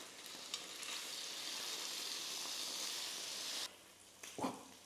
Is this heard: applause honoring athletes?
no